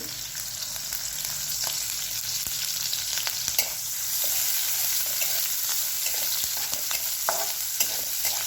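Green chilli and chopped onion sauté in a hot pan, giving a continuous close sizzle with scattered light clicks of stirring.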